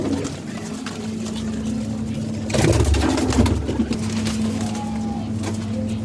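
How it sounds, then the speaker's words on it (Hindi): Pigeons in a loft give a low, steady cooing murmur close by, with a louder burst of fluttering or movement partway through and a faint background hum. "ये देखें, ये कबूतर देख रहे हैं,"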